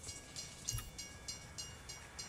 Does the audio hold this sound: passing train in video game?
yes